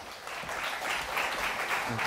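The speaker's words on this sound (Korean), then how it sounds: "큰 박수로 맞이해 주시죠." An audience at an investment seminar applauds to welcome the speakers, with a short burst of steady clapping heard from a distance and voices faintly under it.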